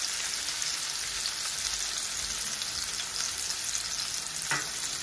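Garlic, green chillies and onions fry in a hot pan with a steady, dense sizzle that crackles evenly throughout, accompanied by one brief utensil scrape near the end.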